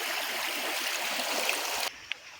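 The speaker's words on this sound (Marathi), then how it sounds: "आणि हा आमचा ओढा आहे." Steady rushing flow of a small village stream in the Konkan countryside, a continuous broadband wash of water that cuts off abruptly near the end, leaving a quieter tail with one brief splash-like tick.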